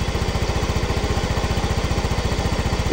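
A Mio Soul i 125 scooter engine with an idle problem runs steadily nearby, giving a fast, even, throbbing putter with no pauses.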